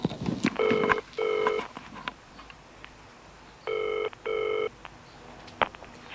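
Telephone ringing after a number is dialed: four electronic ring bursts in two double pairs, each pair of short tones followed by a pause, heard fairly close over a quiet room.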